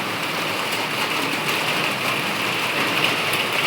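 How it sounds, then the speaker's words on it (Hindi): Rain falls steadily, a dense close hiss of drops pattering on surfaces, even and continuous with no voices. "बारिश हो रही माशाल्लाह, मौसम पूरा चेंज हो गया"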